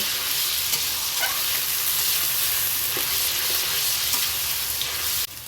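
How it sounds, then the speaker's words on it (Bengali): A paste of onion, ginger, garlic and green chili fries in hot oil for chicken chap, giving a loud, continuous sizzling hiss that stays steady throughout and dips only briefly at the very end. "এই পেঁয়াজটা কিন্তু লাল লাল করে ভেজে নেব"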